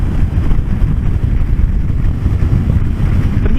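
Heavy, constant wind buffeting roars across the microphone of a rider on a motorcycle at speed on a windy day, loud and unbroken throughout.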